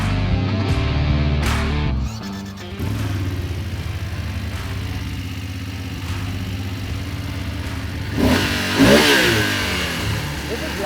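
BMW Motorrad motorcycle engines start with sharp cranking bursts, then settle into a steady, rumbling idle close by, with a louder rev swelling briefly near the end.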